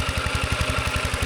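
An old walking tractor, owned for over ten years and used to plough rice fields in Laos, runs steadily with a loud, close, rapid knocking chug of regular pulses.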